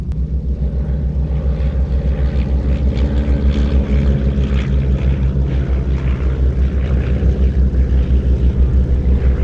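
A Taylorcraft light aeroplane runs at an airshow, its engine and propeller giving a loud, pulsing low rumble that stays steady and near throughout.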